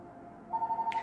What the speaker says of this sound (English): I'm sorry about that phone. Let it ring.